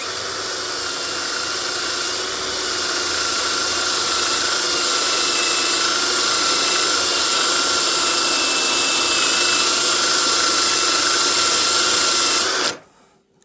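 A cordless screwdriver fitted for sanding grinds steadily against a meteorite, a loud, continuous high-pitched whir with abrasive hiss that holds level for most of its length before cutting off abruptly near the end.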